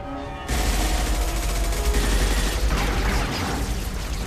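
Sustained gunfire in the Mass Effect 2 video game, a dense, loud, continuous barrage of rapid shots with deep rumbling booms, kicking in suddenly after a brief quieter moment and holding steady throughout.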